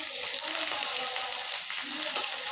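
Mustard paste frying with fish masala for a fish chorchori, a loud, dense sizzle that runs steadily throughout with soft stirring scrapes underneath.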